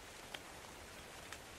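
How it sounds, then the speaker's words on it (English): Faint, steady rain hiss in ARK: Survival Evolved, a soft continuous patter with a couple of tiny droplet ticks. "Rain. And rain."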